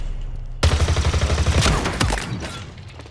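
Needler fire in Halo Infinite: after a brief lull, a loud, rapid burst of repeated shots rattles out, ending in a sharp blast and tailing off.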